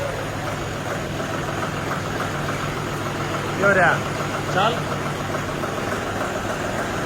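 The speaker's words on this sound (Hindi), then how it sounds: "ये तो ट्रैक्टर से स्टार्ट कर लिया" A tractor engine idles in a steady, low rumbling drone after starting, running continuously throughout outdoors, with a couple of brief voices calling out over it.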